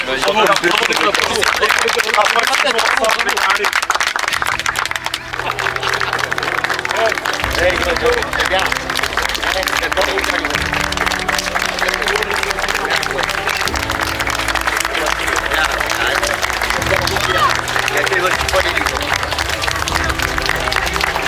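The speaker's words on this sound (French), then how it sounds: "Je peux vous applaudir." A French amateur football team applauds in the dressing room after a fourth-round Coupe de France match, with sustained, dense clapping and cheering close by. Chatter and a voice run underneath the clapping throughout.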